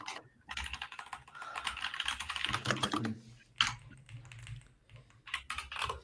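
Fast, hard typing on a computer keyboard during a live coding session, a dense close clatter of keystrokes with brief pauses and a few sharper louder strikes, no voice heard.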